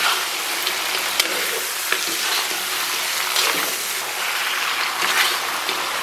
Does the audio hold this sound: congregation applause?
no